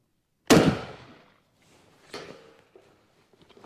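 A single gunshot fired at a target about 50 meters away: one sharp, loud crack that decays over about a second, followed by a fainter secondary report and light shuffling.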